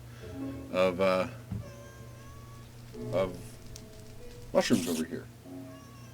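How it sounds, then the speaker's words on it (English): A house cat meows several times in short, separate calls close by while a person talks between them. "That was my cat."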